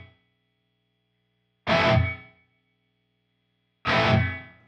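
Two separate guitar strums pass through a room reverb effect on a Line 6 HX Stomp XL, each bursting out loud and then decaying into a short ambient tail before falling silent.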